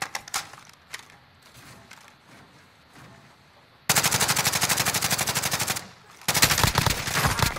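Automatic gunfire in Call of Duty Modern Warfare: a few scattered shots, then two loud, sustained bursts of rapid machine-gun fire close by, with a brief pause between them.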